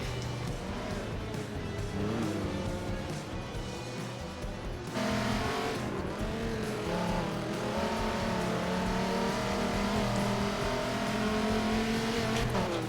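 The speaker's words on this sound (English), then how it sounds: "Cardew getting a little eager on the throttle, but spinning up the inner rear wheel" Race car engines roar and rev in Forza Motorsport 7 at Hockenheimring, a loud, continuous multi-car drone with rising and falling pitch as the cars accelerate and shift, gaining intensity midway.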